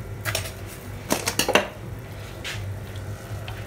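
A spoon scrapes and clinks in a pot while pudding is stirred, with a few quick metallic taps in the middle over a quiet background hum.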